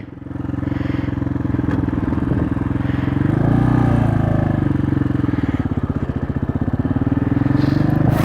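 A Hawk 250 motorcycle engine drones steadily close up, then climbs in pitch and settles into a rapid pulsing putter as it pulls through the gears, with no talking.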